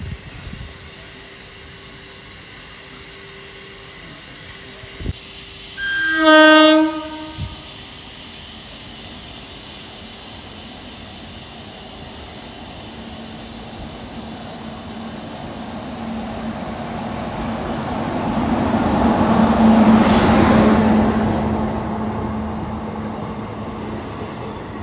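Yesvantpur–Prayagraj special train 04150 at a station, with a loud horn blast early on, then a low rumble that swells and fades as the train rolls through, with no talk.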